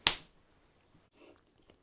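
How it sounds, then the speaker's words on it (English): A single sharp hand clap sounds close and loud at the start, followed by faint clicks and taps. "I'm going to clap my hands together and have the other side done"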